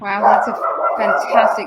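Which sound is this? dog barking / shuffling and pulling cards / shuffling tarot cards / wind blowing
dog barking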